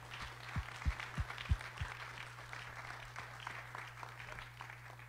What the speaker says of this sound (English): let's give a round of applause for Matt